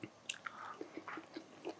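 Chewing a bite of tender smoked lamb shoulder or leg with a crusty bark, heard close up as a short run of soft, moist chews and small bites without talk.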